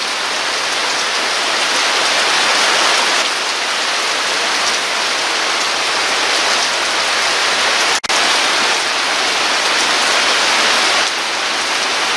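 Heavy rain pours steadily off a rocky mountainside during a storm, little waterfalls streaming from a strip of rock; a loud, dense, unbroken hiss of water close by, with no voices.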